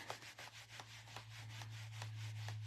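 A rubber stamp is wiped back and forth across a scrub pad, giving a quiet rhythmic series of brushing rubs at a steady pace, close and alone, over a low steady hum.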